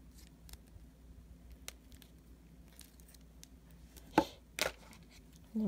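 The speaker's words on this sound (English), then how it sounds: "I'm just going to cut off the excess." Wire cutters snip excess wire from a beaded flower tassel charm, a few sharp, quiet clicks close up after faint handling sounds, with no voices.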